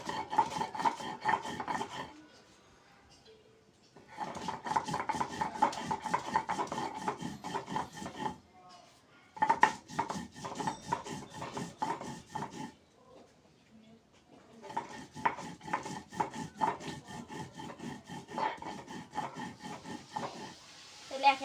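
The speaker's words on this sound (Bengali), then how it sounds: "এবারে শুকনো ঝালগুলো বেটে নেব।" Dried red chillies ground on a stone slab, a steady rough rasping and rubbing in long repeated bursts separated by short pauses, close and loud.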